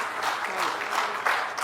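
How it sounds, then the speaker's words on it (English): Audience applause for Rupal at an evening event, a dense steady wash of clapping from a crowd that runs throughout at moderate loudness with no gaps. "Ladies and gentlemen, nice big round of applause."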